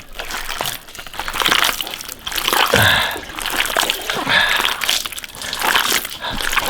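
Hands vigorously squeeze and scrub raw pork intestines in water, giving continuous wet squelching, sloshing and splattering in rhythmic surges, close up.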